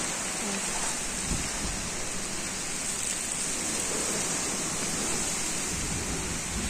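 Heavy rain falls in a dense, constant hiss that stays even and loud throughout, with no breaks.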